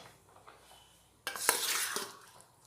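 Chopped, washed chicken drops into hot oil for chicken chow mein, setting off a sudden loud sizzle that spreads after a quiet lead-in, with faint stirring and clinks from the pan.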